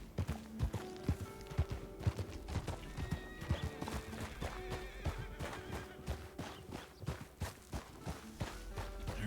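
In Red Dead Redemption 2, horse hooves clip-clop steadily through the clip with an occasional whinny, a group of riders passing close by.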